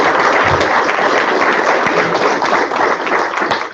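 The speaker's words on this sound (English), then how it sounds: "Let's give them all a round of applause." An audience at a data science meetup breaks into sustained applause, a dense, steady roar of many hands clapping at once, loud and close, with no pause from start to finish.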